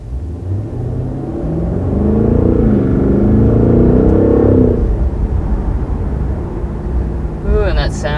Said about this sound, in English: Just beautiful sounding engine.